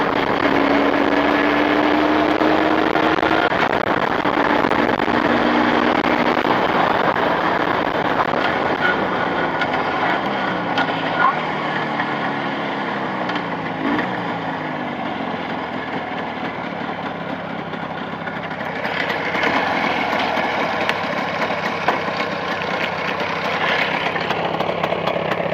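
A motorcycle engine running steadily during break-in on Chinese-made cylinders in +40 degree heat, a continuous close idling drone with wind buffeting the microphone throughout and no speech.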